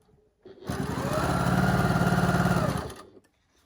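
A sewing machine chain piecing large quilt block pieces, running in one steady, close whirring burst of about two and a half seconds, with quiet before and after.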